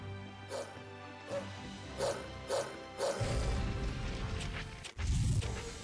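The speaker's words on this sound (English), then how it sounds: "That dog." Dog barks in Tales of Zestiria, several short yips spaced about half a second apart, then a denser burst of game noise and a sharp crash near the end.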